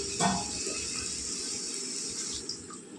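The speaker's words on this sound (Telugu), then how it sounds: "ఇప్పుడు నీళ్ళు వేసుకుందామండి" Steady rush of water pouring continuously into a cooking pan of cabbage masala curry, a bright hissing stream at close range with no talking.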